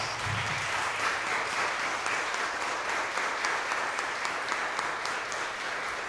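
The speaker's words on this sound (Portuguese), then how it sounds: "Palmas!" Steady applause from a church congregation at an anniversary thanksgiving service, a dense, even patter of many clapping hands, moderately distant and sustained throughout, with a faint voice briefly at the start.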